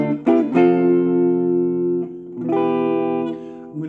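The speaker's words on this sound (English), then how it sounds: "You can hear the guitar's got a clean sound" A clean-toned electric guitar rings out a couple of sustained chords from the chorus of a song, each strum left to hang for a second or two, close and clear with no talking.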